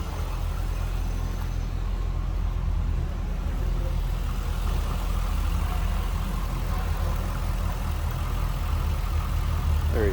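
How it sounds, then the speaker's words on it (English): A 2004 Chevrolet Corvette convertible's engine idles with a steady, even low rumble, close and continuous throughout, with no talking over it. "How good that engine sounds."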